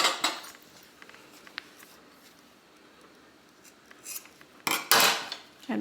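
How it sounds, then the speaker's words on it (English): Scissors snip through the ends of paracord after a knot is tied for a horse halter noseband, close crisp cuts at the start and a louder rustling pair near the end, with quiet handling between. "and then simply cut off the ends"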